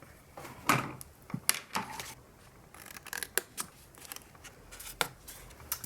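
Scissors snip through a traced cardstock template for a triangle pizza box, giving quick, crisp cuts close by in an uneven rhythm, with paper rustling between the strokes and no talking.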